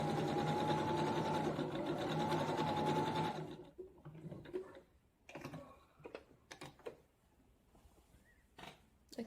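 A sewing machine stitches a bra gusset in a loud, steady whirring run lasting a few seconds, then stops, leaving scattered soft clicks and fabric handling.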